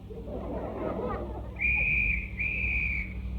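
A whistle blown on a radio comedy show, two shrill sustained blasts back to back, loud over a murmuring background after a brief stretch of low noise.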